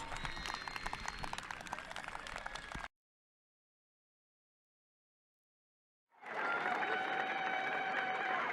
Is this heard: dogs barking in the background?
no